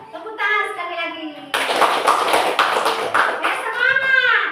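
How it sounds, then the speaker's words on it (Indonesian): A class of children claps together during an Indonesian primary-school lesson, a dense burst of hand claps starting partway in and continuing to the end, with a voice and an adult's voice heard before and around it. "Tepuk tangan sekali lagi."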